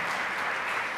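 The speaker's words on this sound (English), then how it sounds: "So give everybody a round of applause for our sponsors." A large audience at a business event claps for the sponsors in a brief, dense, steady burst with no voices over it.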